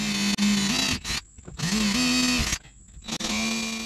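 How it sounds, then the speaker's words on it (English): A power drill bores pilot holes into the bed of a 2022 Toyota Tundra TRD Pro, whining loudly in three sustained bursts with brief pauses between them as the trigger is released. "Once your pilot holes are drilled, switch over to your 17/64 inch bit"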